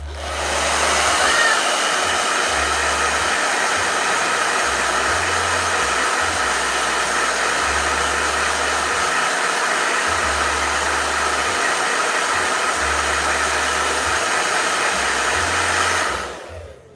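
A blow dryer runs loudly and continuously for a long stretch, a steady airy whir with a low hum, then switches off at the end.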